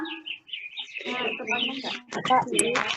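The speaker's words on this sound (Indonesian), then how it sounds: "Nah ini adalah jalak Bali, burung yang sangat langka keberadaan sekarang." A rare Bali myna calls with bright whistles and chirps, mixed with people talking and background chatter nearby.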